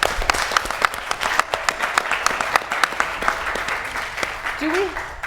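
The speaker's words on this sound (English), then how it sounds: "Give them a round of applause." Steady applause from a room of people at a milk quality awards event, many hands clapping in a dense continuous patter that carries on throughout.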